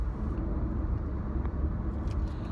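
Saturday evening rush-hour car traffic heard from inside a car as a steady low road rumble and engine drone with no voices, continuous and fairly loud throughout.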